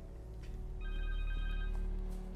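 In the Spider-Man 2 video game, a cell phone rings with a short electronic tone over a low, steady background hum.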